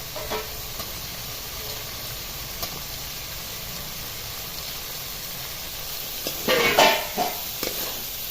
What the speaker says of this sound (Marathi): मसाल्याला पूर्ण कोट होतील शेंगा अशा पद्धतीने हलवून द्यायचं